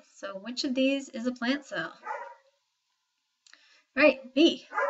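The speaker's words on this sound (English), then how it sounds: "You can probably hear my dog barking." A person talks, then after a pause a few short, sharp dog barks break in from nearby, mixed with the voice.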